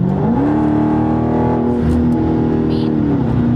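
A car engine pulls hard and loud from inside the cabin on the way to a car meet on Vancouver Island, its pitch rising smoothly as it accelerates and then holding steady.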